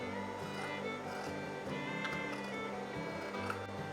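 Domestic sewing machine running steadily through blouse fabric, a continuous close mechanical whir with a rapid needle rhythm, no talking.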